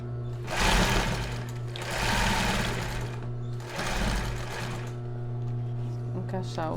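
A sewing machine stitches a crossed-back bra in three loud, close bursts of rapid whirring, each separated by short pauses over a steady background hum; someone talks over it.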